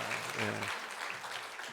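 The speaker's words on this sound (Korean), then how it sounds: "우리 환영의 박수로 맞이하겠습니다" A church congregation claps to welcome newly registered members at a Sunday service, a soft, scattered patter of many hands that fades after a brief spoken word at the start.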